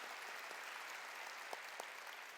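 A church congregation claps, a steady wash of many hands applauding together with a couple of sharper claps standing out, heard at a distance and fairly soft.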